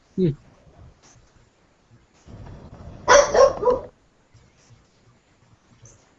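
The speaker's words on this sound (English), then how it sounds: "it's usually because my dogs are barking" Household dogs bark in a few sharp, short bursts, one near the start and a louder cluster a few seconds later, with quiet gaps and faint background sounds between them.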